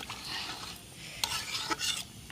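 A utensil scrapes and clatters in a cooking pot of meat being stirred outdoors in the rain, with a few soft, irregular scraping strokes and light knocks, fairly quiet, no voices.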